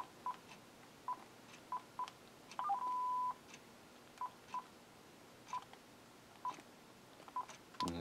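A Uniden DECT1560 cordless telephone gives short, faint keypad beeps at irregular intervals, with one longer tone near the middle, against a low background hiss.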